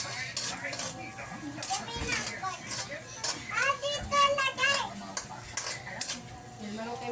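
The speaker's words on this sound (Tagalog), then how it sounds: "Ito magigisa ako ng sibuyas" Onions sauté in a pan at home while utensils clatter and scrape against cookware and faint sizzling sits under the noise, with several people talking throughout, a child among them.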